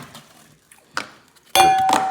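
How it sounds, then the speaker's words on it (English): A Stanley food jar lid strikes a hard surface with one sharp metallic clatter and a ringing ping, loud and close, after a few fainter knocks and handling sounds. "Oh, I dropped the lid"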